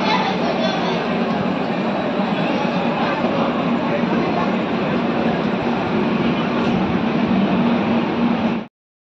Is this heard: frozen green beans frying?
no